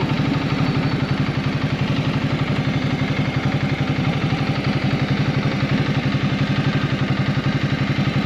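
Ducati Multistrada 1200S motorcycle engine idling close by, a loud, steady rhythmic thumping pulse with mechanical clatter, continuous throughout with no talking.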